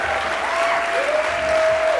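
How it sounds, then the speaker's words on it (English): Keynote audience breaks into applause, a thick continuous roar of clapping filling the hall from start to finish, loud and even, with a faint tone running underneath. "I will pause for your spontaneous applause"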